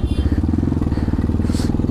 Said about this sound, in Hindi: ये मैंने स्नो पे चढ़ा दी अपनी बाइक